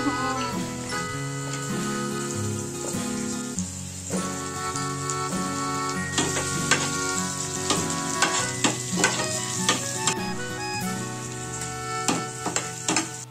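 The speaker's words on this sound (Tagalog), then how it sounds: "Ito, mag-gigisa tayo nito." Food sautéing in hot oil in a pan, a steady sizzle and hiss with clinks and scrapes of stirring, close and fairly loud, with no voices.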